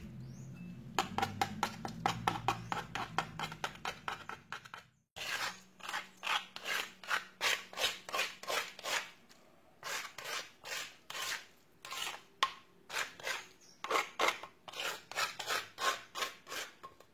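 A rapid series of rough, rhythmic scraping and grinding strokes, stone on stone, as shallots and garlic are ground with a stone mortar and pestle, close and steady, pausing briefly before resuming.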